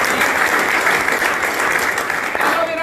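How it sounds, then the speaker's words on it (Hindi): An audience at a talk on aloe vera and tulsi claps in a burst of dense, steady applause that stays loud for nearly three seconds before thinning out at the end. "जिन्होंने हाथ खड़ा किया एक बार शानदार ताली"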